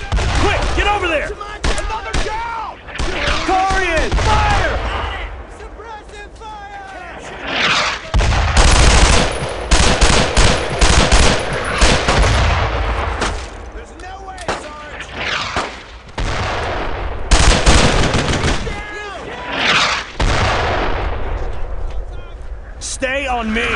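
Heavy, sustained gunfire rages in the video game Brothers in Arms: Road to Hill 30 as overlapping rifle and machine-gun bursts build into dense volleys, while shouted voices call out over the battle.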